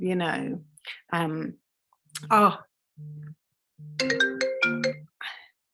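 An Apple phone's ringtone chimes in short tonal bursts, ringing several times with gaps between, and people talk in between the rings at close range.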